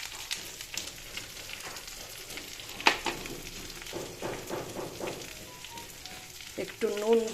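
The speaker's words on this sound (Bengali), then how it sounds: "বেগুন, আর বেগুনটাও একটু সাতলাতে হবে।" Eggplant sautéing in a hot pan, a steady low sizzle and crackle running throughout with a few sharper spatters and stirring clinks, fairly close and moderately quiet.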